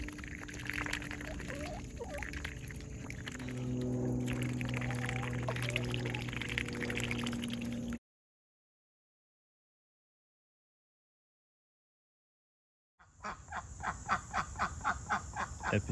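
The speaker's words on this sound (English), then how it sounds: "This is very excited sound." Ducks quack and squawk excitedly over a rushing background, then silence, followed by a rapid run of loud repeated quacks.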